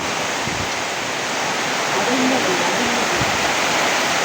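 Severe floodwater rushes in a broad, continuous roar, loud and close, with no break and only a brief faint tonal sound partway through.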